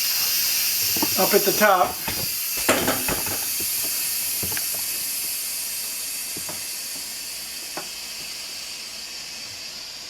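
A Cosori multi cooker vents steam through its release valve with a strong continuous hiss that holds for the whole stretch, slowly easing, while a person talks briefly near the start.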